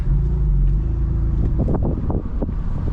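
A tuned BMW F82 M4 drives through city streets, its engine giving a steady deep rumble with a few throttle swells and no one speaking.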